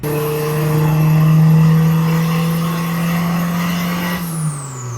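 A budget turbocharged Honda engine revs on a dyno, holding a loud, steady high-pitched drone that climbs slightly and then drops sharply as the throttle closes near the end, with no talking.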